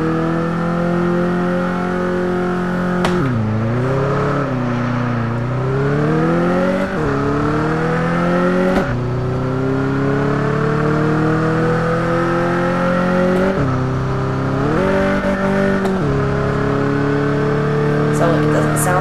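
A car engine revving and accelerating while driving in the racing game Test Drive Unlimited 2, pitch repeatedly climbing then dropping at gear shifts, loud and steady, with a player talking over it.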